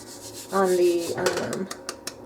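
A rolling pin rolling biscochito cookie dough on a floured countertop, a short soft rubbing pass followed by a few light knocks and scrapes, close and moderately loud.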